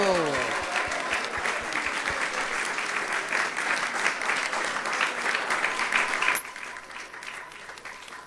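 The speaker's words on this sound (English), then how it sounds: "So let's give him a big round of applause" A temple crowd applauds with dense, steady clapping for several seconds, then it cuts off abruptly and a thin, high steady tone takes over.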